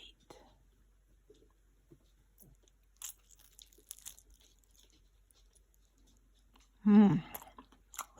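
One crunchy big bite into a crispy, cheesy birria quesa taco dipped in consommé lands near and sharp after quiet moments filled with faint soft mouth sounds.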